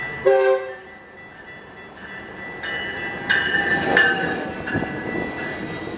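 A Metrolink commuter train rumbles past with a clattering roll, its horn sounding in short blasts partway through, fairly close and loud.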